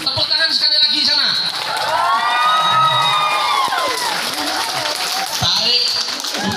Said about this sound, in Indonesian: Tepuk tangan sekali lagi sana.